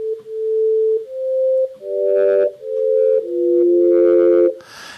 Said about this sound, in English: you take just the sine wave and increase the attack time slightly, you can get something that sounds a little bit like a flute